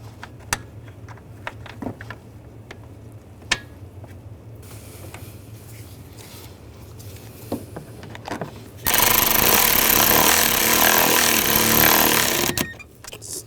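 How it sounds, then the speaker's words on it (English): Bolts on the condenser cooling fan assembly of a 2008-2012 Jeep Liberty 3.7L V6 are snugged down, first with scattered clicks and small metallic taps, then a loud, sustained rattling of a power tool for several seconds, close by, with no speech. "Now take the bolts, get those started. And snug those down."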